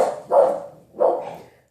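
A dog barks twice nearby, two loud separate barks about three-quarters of a second apart, each trailing off, with a quiet indoor background.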